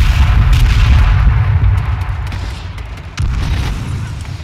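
A sniper rifle shot in a video game rings out inside a dense, booming mix of game gunfire and explosions. There is a sustained loud low rumble, and a fresh impact hits near the end.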